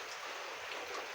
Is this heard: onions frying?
no